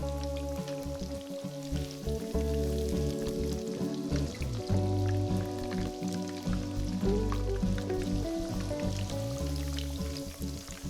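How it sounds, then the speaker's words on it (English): Breaded pork cutlets for tonkatsu are returned to hot oil for a second fry, giving a continuous crackling sizzle that stays steady throughout beneath background music. "Let's put back the pork chops that we fried earlier."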